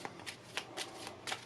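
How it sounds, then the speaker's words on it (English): Overhand false shuffle of a deck of playing cards, soft riffling slaps and pats in quick irregular succession, faint and close with no voice. "Overhand shuffle, just like that. And the cards just stay in the same order they were in."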